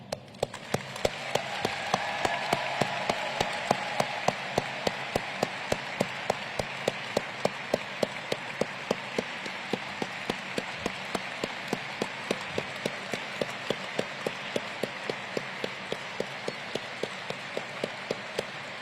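Audience applause at a test pilot school graduation ceremony, a sustained wash of clapping punctuated by sharp, regularly spaced claps standing out close by throughout.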